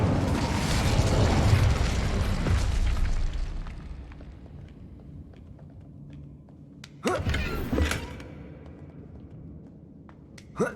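An Incendio fire spell in Hogwarts Legacy bursts out with a loud, rumbling whoosh that slowly fades, followed by a second shorter burst and a final sharp pop.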